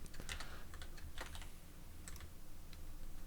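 Quiet typing on a computer keyboard, a close but soft run of irregular key clicks with a few louder taps, heard alone without any talking.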